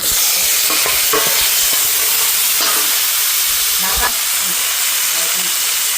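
Tomatoes and onions fry in hot oil for a lentil curry, a loud, continuous sizzle and hiss with intermittent scraping stirs and clatter throughout.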